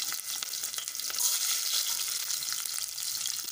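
Fenugreek seeds and onion frying in hot oil for a Tamil fish curry, a steady bright crackling sizzle, close and continuous with no talking.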